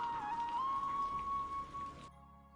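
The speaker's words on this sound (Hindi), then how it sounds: "अब तो बस ये बारिश रुकने का इंतजार है" Steady rain in a cartoon patters in a dense broadband hiss with a faint tonal whine over it, then cuts off abruptly near the end.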